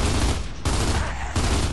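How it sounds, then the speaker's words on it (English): Heavy, continuous close-range gunfire in Gears of War 2, loud and dense, broken into two short sustained bursts. "we're being shot by both sides"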